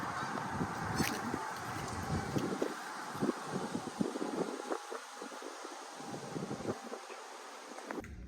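Wind blows outdoors, a steady low rush and buffeting with gusty low-end thumps, while geese honk and insects buzz in the background.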